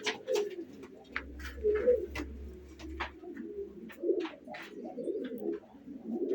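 Pigeons coo in soft, repeated low calls close by, mixed with scattered sharp chirps and clicks, and a low hum runs under the opening seconds.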